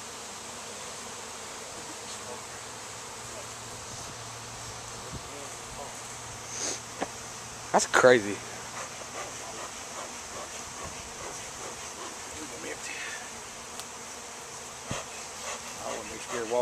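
Honeybees buzz steadily through a hive installation, a continuous insect drone heard close by, with a few brief bumps and handling noises and short bits of talk from people nearby.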